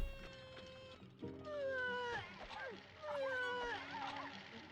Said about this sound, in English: Every now and again you can hear her whimpering and crying.